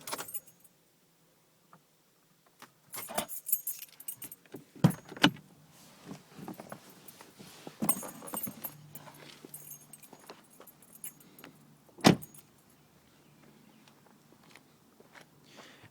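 Keys jangle and clink up close several times while a Mercedes-Benz C300 is switched off, with scattered handling knocks and quiet gaps between them.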